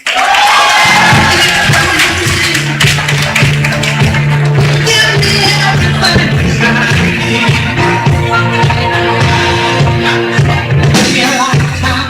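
An audience at a primary school graduation ceremony claps and cheers loudly and continuously, with shouts and whoops over a steady, bass-heavy musical backing.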